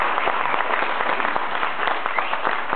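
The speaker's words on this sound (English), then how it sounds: "So a big round of applause for you." Dancers at the 16th Delta Dance square-dance gathering applaud together, a steady, dense patter of many hands clapping at moderate volume with no voices over it.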